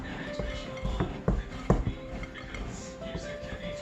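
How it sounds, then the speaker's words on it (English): A spoon knocking and scraping against a bowl while mixing cinnamon raisin bread dough, a few sharp clinks around the middle followed by softer stirring, with a voice talking alongside. "Work it out with the handle of your spoon."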